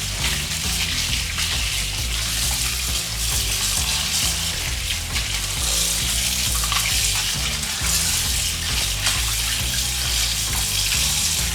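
Running tap water splashes continuously into a sink while beetroot is washed, with a dense, steady rush close by and no talking.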